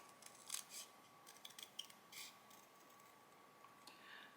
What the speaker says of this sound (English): take your scissors and just trim the center of the body part